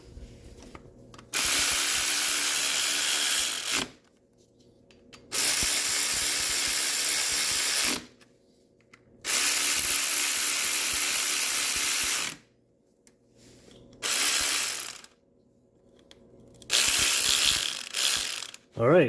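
Rapid ratcheting of a socket wrench tightening a 17 mm bolt on a Honda Fourtrax ATV during filter work, heard in five close, loud bursts of several seconds each separated by brief pauses.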